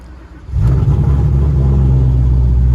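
A Silverback GT500 engine with a hot-startup problem stays quiet for half a second, then catches and roars into a loud, close, deep rumble that holds steady to the end.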